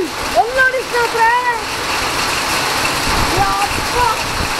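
Heavy rain pours steadily with gusting wind in Siddapura, a dense continuous wash of water noise, while excited voices talk and exclaim over it.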